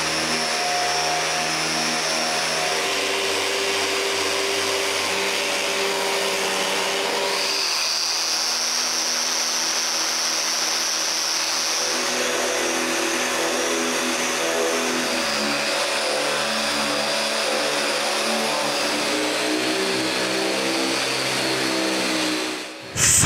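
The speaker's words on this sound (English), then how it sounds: "Sand everything up to the final grit of 220." A power sander works a solid pine pantry up to 220 grit, giving off a continuous loud whirring drone that shifts in pitch as the tool moves across the wood, with no talking.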